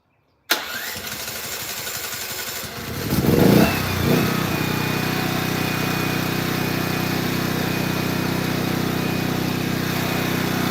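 A generator running on fuel made from plastic cranks and starts abruptly, surges for a moment, then settles into a steady, loud, close mechanical drone with no talking.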